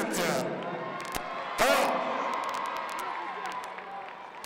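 Crowd cheering and applauding athletes at the finish line of a Paris Île-de-France athletics meeting after a 400 m race, a busy swell of applause and shouts with a louder burst partway through, a voice speaking over it at first.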